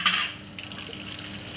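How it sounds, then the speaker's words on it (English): Boiled potatoes and their hot water tipped into a colander, a brief splashing gush followed by a steady draining rush, close and moderately loud. "I'm going to pour them and drain them off through the colander"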